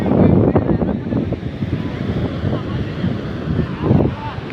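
Strong wind buffets the microphone at the seashore at Somnath, with the roar of waves underneath, forming a steady, loud rumble that swells slightly at the start and near the end.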